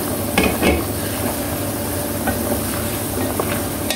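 Chicken wing adobo with vinegar comes to a boil in a pot, a steady bubbling and sizzling simmer close by, with occasional soft clinks and pops over a constant hiss.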